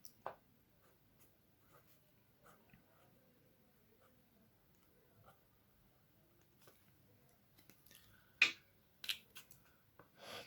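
Pen writing on paper while a maths problem on matrix transposes is set out, heard as faint, intermittent scratching strokes in a quiet room, with a few sharper taps and scrapes near the end.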